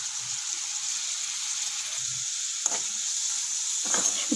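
Onions frying in a pan with salt, curry leaves, coriander and mint for tomato rice give a steady, close hiss of sizzling oil, with a few brief stirring scrapes near the end and no talking.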